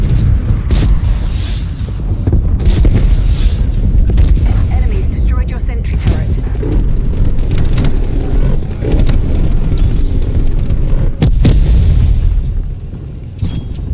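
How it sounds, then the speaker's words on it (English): Heavy booming blasts from a cruise missile strike in Call of Duty: Black Ops Cold War, with deep rumbling explosions and bursts of debris rolling through loudly while players talk over the chaos. "Enemy cruise missile launch detected."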